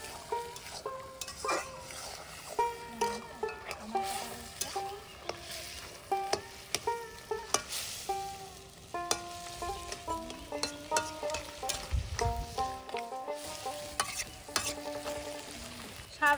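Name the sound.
stirring greens with turmeric and cumin in pan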